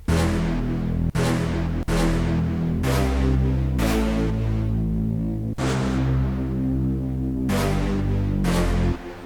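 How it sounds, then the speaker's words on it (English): A layered electronic melody with an added horn line plays continuously, with sustained tonal chords changing every second or so, loud and dense throughout without any voice. "And along with the horn, it sounds like this."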